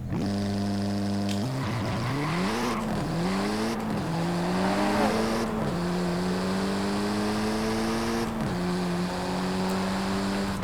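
A tuned 700+ horsepower VW Golf R MK7 with a Varis bodykit launches and accelerates in Forza Horizon 5, its engine climbing loudly through several gear shifts with brief dips between each rising surge, steady and close throughout.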